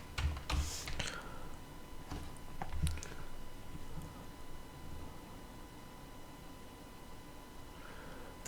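Fingers typing an IP address on a computer keyboard, with a short burst of soft, close key clicks at the start, then only a quiet room hiss.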